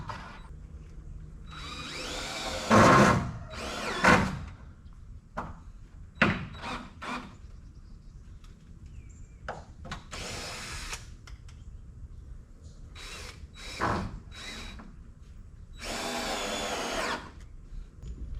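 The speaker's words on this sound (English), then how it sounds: "How about a screw gun that works?" A screw gun whirs in short bursts of varying length while barndominium window framing is prepared, interspersed with knocks, handling noise and quiet gaps.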